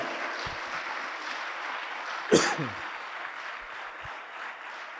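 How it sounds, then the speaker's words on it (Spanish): A church congregation claps together at a Spanish-language service, a continuous steady wash of applause with a brief louder burst partway through. "Dale fuerte las palmas al Señor."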